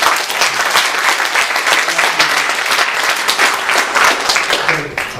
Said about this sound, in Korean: 나현아 위해서 축복하면서 박수를 보내드립니다